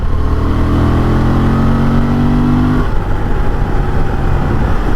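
A Honda Transalp motorcycle engine revs up close, holding a steady high-revving drone that then drops back to a rougher, lower rumble, loud and alone.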